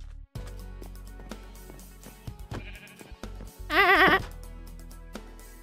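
A sheep in the Minecraft video game lets out one loud, wavering bleat over game music, with a player's brief exclamation just before.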